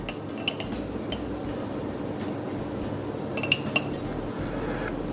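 A spoon clinks against a glass while a shot cocktail is prepared, with a few light, sharp taps, near and clear against a soft background hum.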